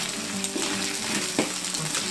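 Rice frying with stink beans (pete) in a pan gives a dense, steady sizzle close by, with a few soft stirring scrapes and clinks breaking through. No one speaks.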